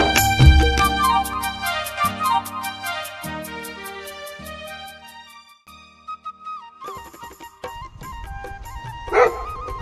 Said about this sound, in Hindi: केवल कुत्ता भौंक रहा है एक बार मुझे देख के